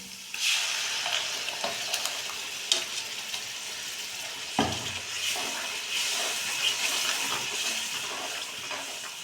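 Masala for palak paneer fries in oil in a pan with a bright, continuous sizzle, while stirring adds occasional scrapes and a heavier clunk partway through.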